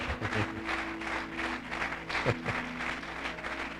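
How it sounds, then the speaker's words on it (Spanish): Church congregation clapping in praise to the Lord during a Spanish-language sermon, a steady roomful of hands heard fairly faintly over a sustained hum of instruments or organ in the background. "dele un aplauso al Señor"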